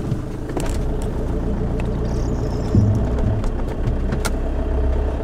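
A camper vehicle drives slowly over sand in Denmark, a steady low engine rumble and tire noise continuing throughout at close range.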